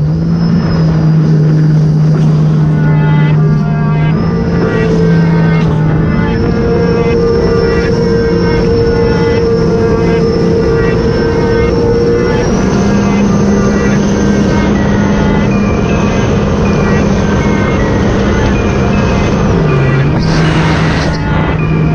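Sea-Doo RXP-X 300 jet ski accelerating hard along the Intracoastal Waterway at Myrtle Beach, a loud, close, continuous engine roar with shifting pitch as throttle rises and eases, wind and water noise throughout.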